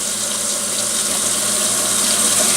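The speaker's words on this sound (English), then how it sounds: "Now I want to get my water going as hot as possible over here at the sink." Hot tap water runs steadily from a kitchen faucet into the sink, a constant close hiss and splash heard alone without talk.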